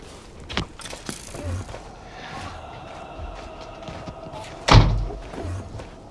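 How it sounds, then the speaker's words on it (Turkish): A door slams shut in the Minecraft video game, one sharp loud thud standing out over a quieter game backdrop with a few softer knocks earlier. "kapıyı kapatsana."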